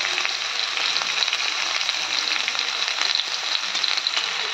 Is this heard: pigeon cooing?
no